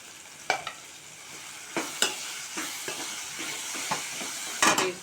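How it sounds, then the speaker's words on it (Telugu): Ginger being stirred into a sizzling mixture in a frying pan, steady frying hiss with several sharp scraping strokes of a spoon against the pan at irregular intervals, close and moderately loud with no talk. "అల్లం వేసుకుందాం కొంచెం. కలుపుకుందాము"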